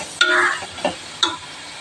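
A few short scraping clinks of a spoon stirring chicken biryani masala with crushed ginger and green chili paste in a pan, three distinct strokes over a faint sizzle, close and quiet without talking.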